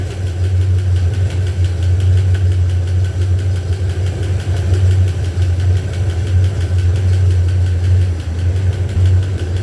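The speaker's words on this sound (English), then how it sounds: "the camera phone is picking up that ticking noise and making it sound way louder than it really is" A Ford 302 V8 pulled from a junk truck, set up for a 1976 Bronco, idles loud and close with a steady low drone and a rapid, even ticking riding over it throughout.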